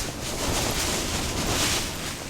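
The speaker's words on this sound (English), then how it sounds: "Still a bit windy" Loud, continuous wind buffets and roars across the microphone at a mountain campsite, a dense rushing noise with slight swells, no voices.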